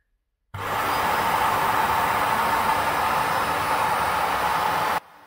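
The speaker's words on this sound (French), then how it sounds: "la base vient aspirer ce qu'il y a en fait dans le petit réservoir de l'aspirateur" An Ecovacs Deebot T9+ robot vacuum base emptying the dust bin: a steady, loud whooshing suction roar starts abruptly, holds constant for about four and a half seconds, then cuts off sharply.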